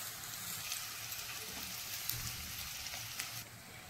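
Onions frying in a pan for restaurant-style malai kofta gravy, a steady dense sizzle running unbroken throughout at moderate level, with a few faint crackles and no talking.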